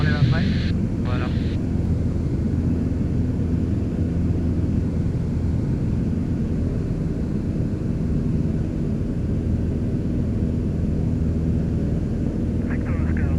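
A Mousquetaire D140 light aircraft engine roars steadily during takeoff from runway 31, a loud, unbroken drone heard from inside the cabin, with short voice transmissions at the start and end.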